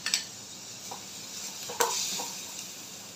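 Onion with finely chopped capsicum frying in a pan for a bread-based veg parcel, giving a soft steady sizzle with occasional stirring scrapes and a sharper clatter near the middle.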